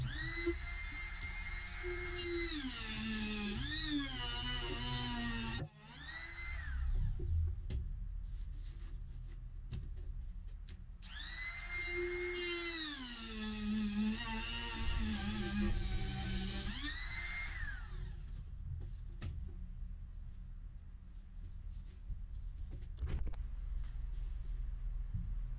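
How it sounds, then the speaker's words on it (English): Laminate edge trimmer routing a laminate edge, two long high-pitched whining passes with shifting pitch, each running about five seconds, separated by a quieter stretch of low workshop rumble and faint knocks. "a specialized edge trimmer for laminates."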